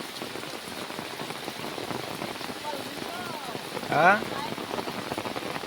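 Steady rain pours down in a farming area after many dry days, a continuous hiss with brief voices and a short rising call partway through.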